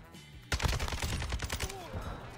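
Kastov 762 (AK-47) automatic rifle in Modern Warfare 2, a sharp, close burst of roughly a dozen rapid shots starting abruptly after a short quiet lead-in.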